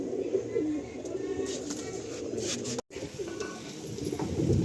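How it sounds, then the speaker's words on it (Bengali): Kaldam Giribaz pigeons, tumbler birds offered for sale, coo softly and repeatedly in a close, steady murmur over faint background noise, with one brief dropout partway through. "কালদম পায়রা বাচ্চা, তাই তো?"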